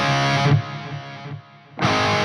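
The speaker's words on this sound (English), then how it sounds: "let's check out some lead tones. I'm gonna engage the delay here" Heavily distorted lead guitar through a Peavey 5150 II amp with delay, sustained saturated notes that drop away briefly into a fading delay tail before a loud chord returns.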